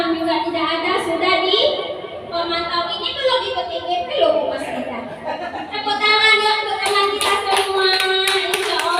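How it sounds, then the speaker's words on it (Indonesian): Teacher and participants clapping hands in a school classroom session, rhythmic claps mixed with overlapping voices, chuckles and chatter throughout. "Tepuk tangan"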